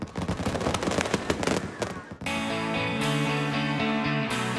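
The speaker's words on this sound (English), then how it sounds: "one of the most coveted locations to watch the fireworks over the Magic Kingdom" Fireworks over the Magic Kingdom at Walt Disney World burst in a rapid crackling barrage, then give way to sustained orchestral music with faint pops behind it.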